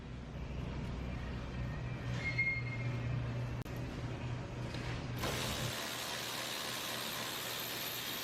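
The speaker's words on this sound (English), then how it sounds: "Tighten these bolts up" Ratchet clicking steadily while bolts are tightened on a Corvette rear spoiler, a close mechanical ratcheting with a shift in background noise midway.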